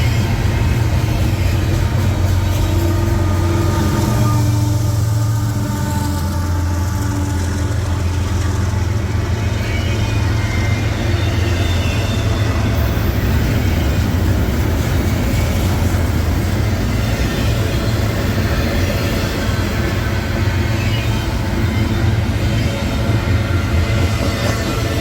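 A CSX ES44AH diesel locomotive hauls a train past on a New York State line, making a loud, continuous low rumble and engine drone that holds steady throughout.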